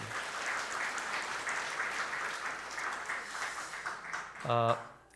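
Church congregation applauding during a worship service, a steady broad clatter of clapping from a crowd held for several seconds before fading out.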